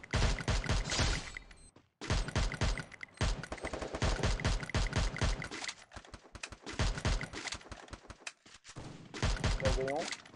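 Rapid bursts of gunfire from a shooting video game crackle throughout, dense volleys with brief gaps, loud and close, with someone talking over the shots.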